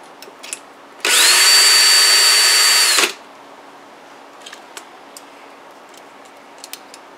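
A Dillon powered trimmer trims a resized ammunition case in one loud, steady high-pitched motor whine lasting about two seconds that starts and stops abruptly, followed by quiet small clicks and handling taps.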